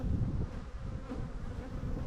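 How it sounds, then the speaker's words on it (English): A dense crowd of honey bees buzzes inside an open beehive, a steady close hum that fills the whole stretch with no voices. "there's so many bees"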